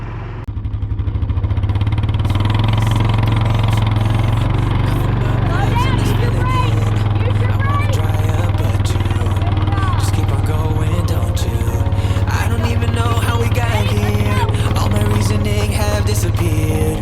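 A Yamaha PW50 mini dirt bike engine drones steadily and loudly throughout a ride across a fresh-cut hayfield, with a constant buzzing hum, music playing over it and faint voices.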